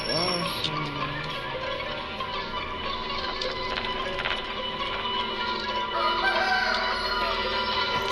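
Chickens clucking and a rooster crowing in the Granny horror video game, with a crow at the start, then layered fowl calls and electronic game tones running steadily throughout.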